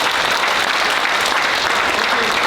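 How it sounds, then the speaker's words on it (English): An audience claps together in unison, producing a brief, loud, dense burst of applause that fills the whole moment evenly. "you all clap at the same time"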